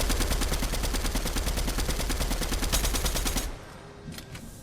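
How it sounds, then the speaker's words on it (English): Rapid automatic fire from an MK7 assault rifle in the video game Fortnite, a fast, even string of loud shots that stops abruptly, leaving a few faint trailing sounds. "I opened the supply drop and I found the Foundation's MK7 assault rifle"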